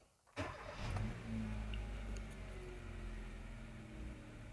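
A Kia car's engine cranks and catches with a short burst, then settles into a steady, fairly quiet idle hum.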